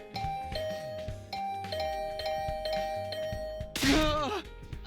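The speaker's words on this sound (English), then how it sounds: "this assault on my doorbell would continue until I answered" A doorbell in The Hundred Line: Last Defense Academy rings over and over, its bright two-tone chimes repeating in quick succession and ending in a louder, clustered burst of rings.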